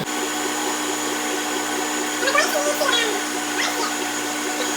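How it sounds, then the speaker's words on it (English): A stand mixer kneads bread dough with a steady motor whir throughout, the bowl and hook adding faint rhythmic knocks midway, close and continuous with no talk. "you actually want to do this on the mixer for like 3 minutes"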